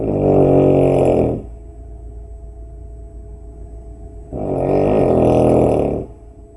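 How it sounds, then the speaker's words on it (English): A woman snores very loudly, two long rasping, rumbling breaths separated by a quieter pause with a low hum, close and heavy. "my mum's snoring makes the roof rattle"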